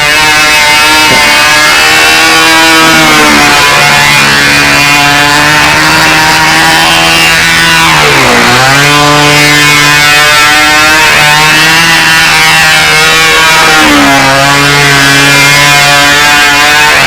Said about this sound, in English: Motor's bogging when it goes under load.